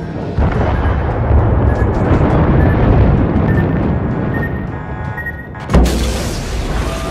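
Torpedo strike explosion on a warship in World of Warships, a long loud rumbling blast that roars for several seconds, then a sharp second impact near the end.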